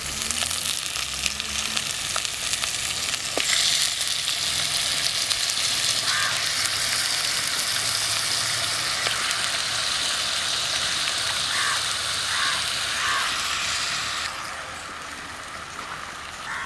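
Chicken with curry leaves and salt sizzles steadily in a hot pan for a Kerala chicken stew, a continuous loud frying hiss with occasional stirring clatter, easing off near the end.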